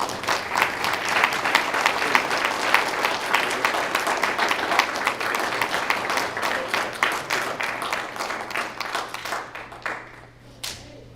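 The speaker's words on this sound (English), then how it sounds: "If you give them a big round of applause." Audience at a school board meeting gives a round of applause, steady dense clapping that holds for about nine seconds before tapering off into room quiet.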